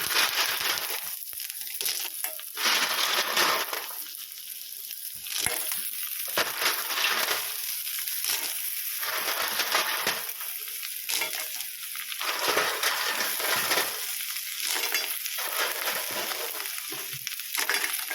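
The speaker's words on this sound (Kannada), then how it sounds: "ಈರುಳ್ಳಿ ಫ್ರೈ ಆಯಿತು ಈಗ ಮರವನ್ನು ಹಾಕ್ತಾ ಇದ್ದೇನೆ" Clams tipped into fried onions in a pan for Mangalore-style sukka, giving a steady loud sizzle with bursts of stirring and scraping throughout, close up and without speech.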